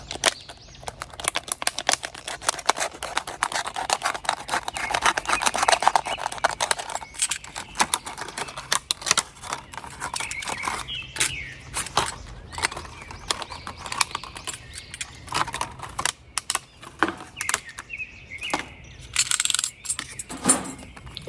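Scissors or a blade cutting down the side of a plastic water bottle, a long series of close, crinkly snips and crackles with irregular sharp clicks and rustles, no talk.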